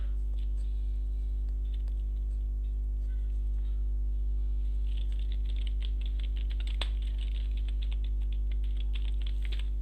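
Typing on a computer keyboard while a document title and subtitle are entered, the keystrokes coming as a steady patter of light clicks that grow busier midway, over a constant low mains hum with no talking.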